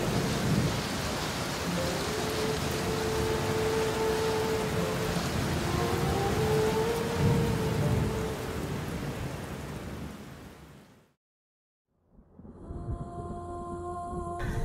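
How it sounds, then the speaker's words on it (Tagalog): Heavy rain pours in a steady, dense roar with rumbling thunder beneath it, then cuts to a brief silence before fainter tonal sounds return. "Kasabay ng pagbuhos ng malakas na ulan."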